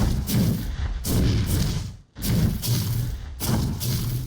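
Golem in ARK: Survival Evolved Scorched Earth hurling rocks that land with heavy booming thuds, four loud impacts in a steady rhythm with a brief quiet gap midway.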